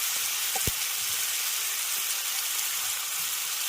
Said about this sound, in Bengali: এবার খুব ভালো করে মশলাটাকে কষিয়ে নেব